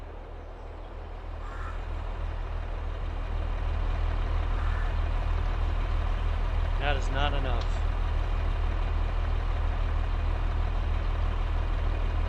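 Tractor engine in Farming Simulator 22 droning steadily with a low, continuous rumble that builds over the first seconds, close and even, while someone talks over it.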